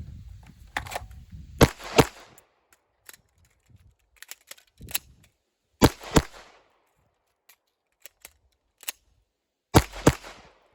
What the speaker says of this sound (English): I'm going to take fast shots and then just reload as quickly as I can without messing up my shots